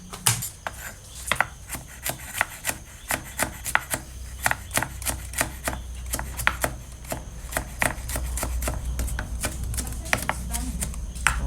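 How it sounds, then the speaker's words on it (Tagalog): Garlic is crushed for stir-fried string beans with ground meat, a quick series of sharp, rhythmic knocks and taps on a hard surface, roughly three per second and close by. "Ipitin natin ng bawang."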